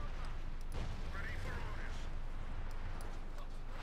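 Airburst artillery shells bursting in the strategy game Company of Heroes 2, a dense rumbling barrage of booms under continuous battle noise, with a voice talking over it.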